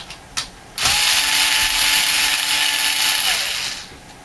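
A power screwdriver runs in one steady whir for about three seconds, backing out a motherboard tray screw from an Apevia X-QPack II PC case, with a faint click just before it starts.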